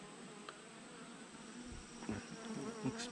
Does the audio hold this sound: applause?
no